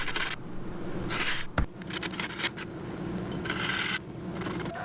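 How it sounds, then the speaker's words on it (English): Steady scraping and rubbing of a woodturning tool cutting into a spinning bird's eye wood bowl during hollowing, a continuous rasp with brighter bursts of cutting and one sharp click partway through, close and alone. "Then the hollowing started."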